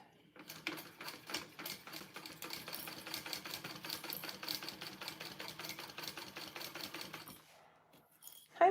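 A sewing machine runs in a steady rapid burst for about seven seconds, stitching along a seam allowance, then stops; fairly close and moderately loud, with no talk over it.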